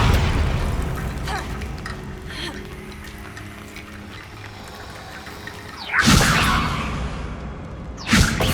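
The Confringo blasting spell from Hogwarts Legacy erupts in two loud, bright bursts a couple of seconds apart, preceded by a low rumbling game soundscape.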